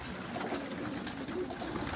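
Andalusian pigeons in a pigeon loft coo softly and continuously, a low, murmuring chorus of several birds heard fairly quietly indoors, with no one talking.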